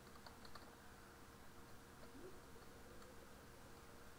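Quiet, rapid clicking of computer keyboard keys as a Linux terminal command is entered, soft and continuous with no voices.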